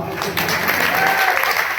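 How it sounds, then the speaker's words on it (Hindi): An audience at a seminar breaks into steady applause, a dense continuous clapping from a roomful of people that holds for a couple of seconds. "ताली बजाओ इस बार"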